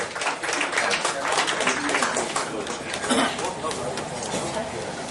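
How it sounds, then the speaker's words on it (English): Audience applause at an essay contest award function, a dense steady patter of many hands clapping for about five seconds, with voices and murmurs mixed in underneath. "may we have a round of applause"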